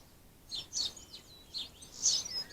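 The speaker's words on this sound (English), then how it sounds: "There they are, twittering and tweeting away." Small birds twittering and tweeting outdoors, several bright chirps and short trills in quick bursts, moderately close, over a soft background hiss.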